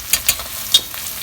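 Spices tossed into hot oil in a pan for a tamarind fish curry, crackling with a few sharp sizzling bursts and stirring scrapes, close and alone without voices.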